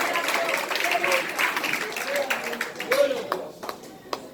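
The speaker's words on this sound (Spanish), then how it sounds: "Dar un aplauso al Cristo del Dios" A church congregation claps together during a Sunday worship service, with a crowd-wide burst of applause under a voice that carries on speaking, before it thins out toward the end.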